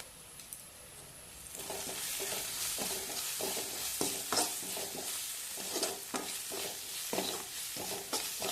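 Shredded cabbage with turmeric, a pinch of colour and salt is stirred in a hot pan: a continuous sizzle overlaid with repeated scraping strokes of a spoon against the pan, close and moderately loud, in an uneven rhythm.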